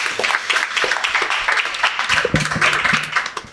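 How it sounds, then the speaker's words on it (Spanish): An audience at a boat-racing talk show applauds a guest with uneven, moderately loud clapping, and a voice briefly rises over it partway through. "un aplauso fortísimo para ella también"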